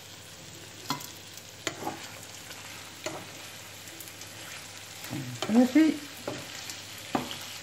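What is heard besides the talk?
courgettes with garlic, mint and parsley frying and stirred in pan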